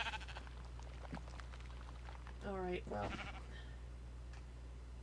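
A sheep in a video game lets out two clear, wavering bleats in the middle, heard over a steady low hum, with someone speaking briefly before them.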